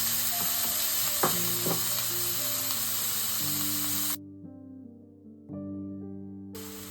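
Marinated pork sizzles in a hot pan with a head of garlic, a steady loud frying hiss with stirring clatter, cutting out briefly midway before resuming.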